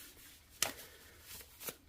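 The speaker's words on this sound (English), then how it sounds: "we shuffle this pile" Tarot cards are shuffled by hand in two soft, quick riffles, faint and close in a quiet room.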